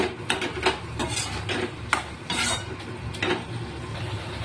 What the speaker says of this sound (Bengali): ভালো করে আমি সবজি আর শাকটা কিন্তু ভালো করে নাড়াচাড়া করব।